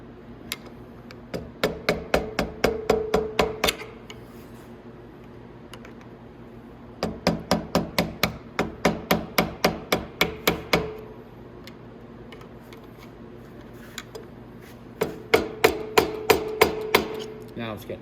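A hammer taps a triple tree down onto the forks of a Venom X22R 250cc motorcycle, in three separate bursts of about eight to ten quick, sharp, close metallic knocks, with pauses between them.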